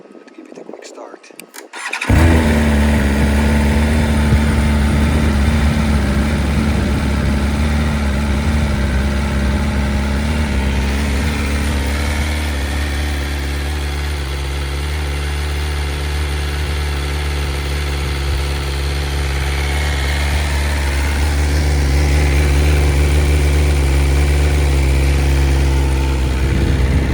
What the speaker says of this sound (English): Let's give it a quick start.